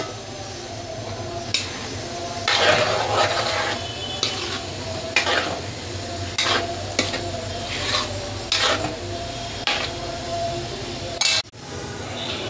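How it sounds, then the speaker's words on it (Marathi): Fried vegetables are stirred into a veg kurma in a pan: a spatula scrapes and clinks against the metal in repeated strokes over a low, steady sizzle, close and clear, with no talking. "आणि याच्यामध्ये टाकूया आपण तळून घेतलेल्या सगळ्या भाज्या।"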